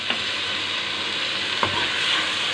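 Red chillies dropped into hot oil in a frying pan for a ridge gourd curry, giving a loud close sizzle that swells steadily, with a couple of sharp stirring knocks.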